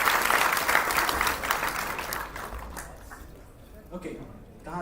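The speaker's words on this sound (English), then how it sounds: "Good round of applause, guys." Students at a university induction program give a round of applause that starts loud and dense, then thins and fades out, leaving a quiet stretch with a brief voice near the end.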